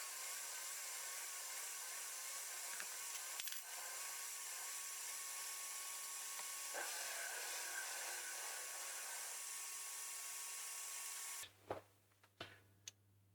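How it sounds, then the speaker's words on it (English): Mini lathe parting off a metal workpiece with a high-speed steel tool, giving a steady, loud grinding whine with a faint squeal that runs unbroken, then stops sharply, followed by a few scattered clicks and knocks. "see if by only cutting that small amount now the high-speed tool can actually get all the way through it."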